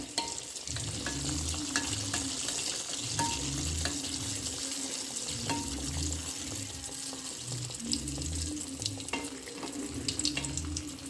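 Athirasam, a sweet, frying in oil: a steady bubbling sizzle heard alone, with rhythmic scraping and stirring from a spoon pressing the pieces at regular intervals.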